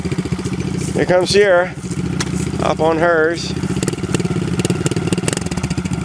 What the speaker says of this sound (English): There's a boy and his motorcycle.